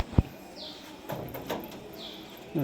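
An aging Ferozpuri male pigeon, a breeding bird, is released. Soft coos and chirps come at a moderate distance, with a sharp thump near the start and faint flutter-like swishes.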